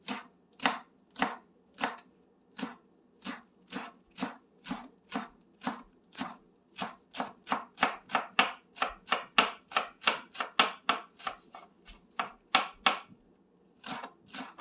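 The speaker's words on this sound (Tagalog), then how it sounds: "Ang una nating ingredients ay ang ating spring onion. So, hiwain lang po natin. Hiwain lang na maliliit." A knife chops spring onion into small pieces on a board, with about thirty crisp, evenly paced strokes close by and no talking.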